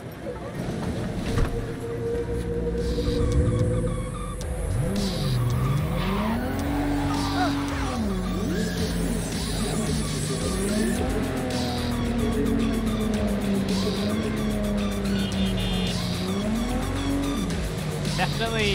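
A car in the video game Cyberpunk 2077 drives with a steady, wavering engine drone, repeated tire squeals and skids layered over it, and continuous game sounds throughout.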